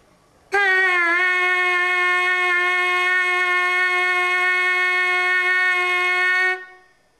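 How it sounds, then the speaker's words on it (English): Steady buzz of lips vibrating on a trumpet mouthpiece, a single sustained pitch that starts abruptly, holds evenly loud for about six seconds, then stops; no talking over it. "Take a big breath and allow the center of your lips to vibrate freely."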